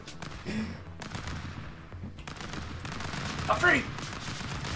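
Rapid bursts of gunfire in the video game Stick Fight crackle in repeated volleys, with one louder burst near the end, while players talk over the shots.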